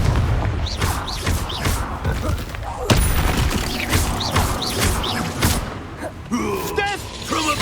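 Fiery Confringo spell blasts erupt during a wizard duel in Hogwarts Legacy, a run of sharp bursts and thuds with a heavy impact near the middle, mixed with grunts and other combat effects.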